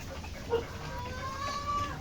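Backyard gamefowl hens cluck nearby: a brief cluck comes early, then soft, drawn-out calls follow over a low outdoor background.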